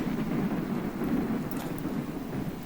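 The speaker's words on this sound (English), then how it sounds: "It's a rainy thunderstorm." Rainy thunderstorm in the video game RimWorld: a steady wash of heavy rain hisses continuously throughout, with low thunder rumbling underneath, no voices.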